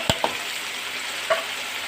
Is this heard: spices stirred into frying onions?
yes